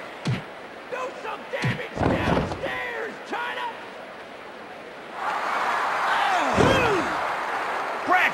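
Wrestlers in the PS1 game WWF Attitude make several heavy thuds as bodies are slammed onto the canvas. A commentator's voice and a roaring arena crowd continue under the impacts, and the crowd swells in the latter half.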